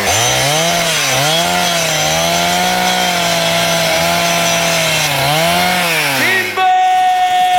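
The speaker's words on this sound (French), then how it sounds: "ben moi je vais chercher la tronçonneuse." A chainsaw runs steadily for several seconds while cutting down a tree, its loud buzzing engine dipping and rising in pitch under load before cutting out abruptly near the end.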